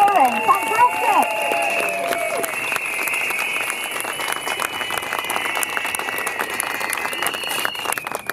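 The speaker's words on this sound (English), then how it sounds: "let's clap again for that" An outdoor rally crowd in Hyde Park, London breaks into sustained applause, dense steady clapping with a few voices calling out over it.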